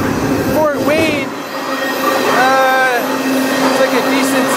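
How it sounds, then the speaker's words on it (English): A freight train moving fast near Fort Wayne, with a loud continuous rumble of wheels on rails and shrill wavering wheel squeals rising and falling over it, heard up close from aboard. "This train is really moving here."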